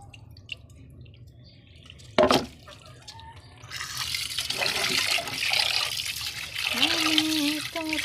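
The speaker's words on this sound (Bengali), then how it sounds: "এই দেখো এটাকে আমি প্রায় 3 থেকে 4 বার ধুয়ে নিই।" Rice being washed in water, with small splashes and sloshing that get louder after a sharp knock partway through, under faint background sounds.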